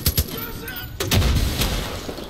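Gunfire in the Far Cry 5 video game comes as a few sharp shots followed by a denser burst of firing, loud and close, with muffled game noise underneath.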